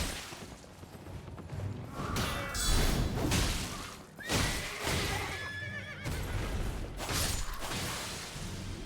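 A horse neighs loudly during combat in the video game Elden Ring, with whinnies over clattering hooves, metallic clashes and crashes, and the noise stays busy throughout.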